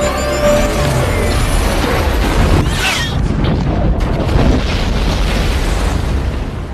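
A loud, continuous roar of a massive underwater explosion as a submarine blows up in the film xXx (2002), with rumbling bass, crackling debris and a rising hiss, filling the whole stretch.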